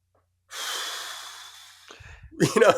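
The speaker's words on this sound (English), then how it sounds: "just breathing heavily" A person breathing heavily, with a sustained, loud breathy exhale lasting over a second, then a few short, rougher breaths and sniffs close up.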